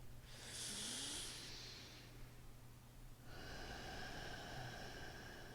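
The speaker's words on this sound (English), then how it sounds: "Take one more inhale and one more exhale" Slow, close breathing during a yoga session: a long airy exhale, a pause, then another drawn-out breath, soft and alone.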